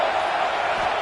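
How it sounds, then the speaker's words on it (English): A football stadium crowd roars steadily for the defense on a big third down at a college game, forming a loud, continuous wash of cheering with no break. "Big third down as the crowd gets behind this defense."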